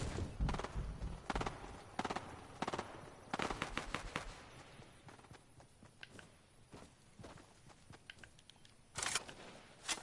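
Shotgun blasts in a solo arena shooter game ring out as several sharp, loud bangs spread through the clip, some in quick pairs, over a busy background of game effects.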